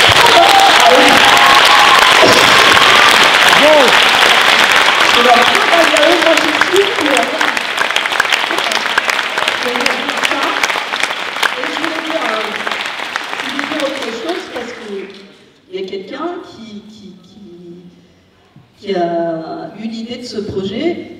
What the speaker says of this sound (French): donc là on peut vraiment les applaudir parce que c'est vrai